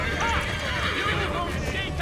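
In the game Assassin's Creed 3, a horse gives a high whinny with clip-clopping hooves beneath it, both moderately close, against a busy background.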